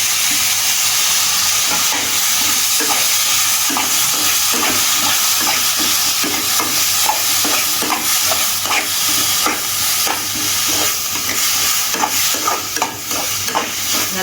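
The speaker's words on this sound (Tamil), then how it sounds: "நல்லா வதக்கி விட்டுக்கோங்க" Tomatoes and curry leaves sauté in a pan for dhaba-style dal fry, a loud, constant frying hiss with rhythmic scraping and tapping of a spoon stirring, close and with no talking.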